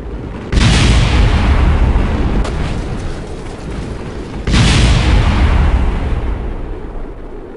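Two loud, deep booming explosions a few seconds apart during a rocket's reentry in the video game Kerbal Space Program, each followed by a long rumbling roar that slowly fades.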